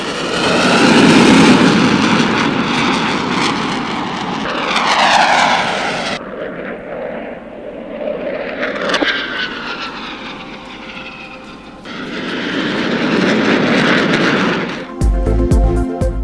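Pakistan Air Force Sherdils aerobatic jets fly overhead during a Pakistan Day display, a loud roaring engine wash that rises and falls as they pass, followed by a second surge of jet noise, with no speech.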